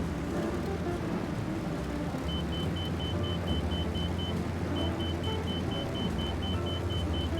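A Pitts Special aerobatic biplane's engine runs steadily at partial throttle, a loud, constant low rumble and drone heard close up from the cockpit, with a faint thin whine over it and no voices.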